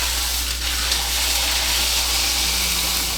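A venison sirloin sears in a hot pan over medium-high heat, giving a loud, steady sizzling hiss that holds evenly throughout with no talk.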